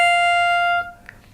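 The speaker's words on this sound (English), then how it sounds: "If I play this note softly," A toy saxophone sounds one sustained note played softly, a steady reedy tone that holds for under a second, then stops, leaving near-quiet room noise.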